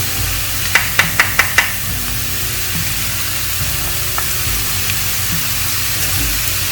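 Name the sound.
garlic sizzling as it is added to a hot pan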